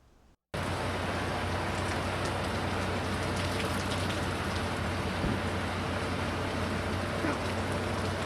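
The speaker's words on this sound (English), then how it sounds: "The rain picking up again right now" Steady, dense rain pours down beside the Lake Texoma spillway, a constant broadband hiss starting abruptly after a brief quiet moment and holding loud and even to the end.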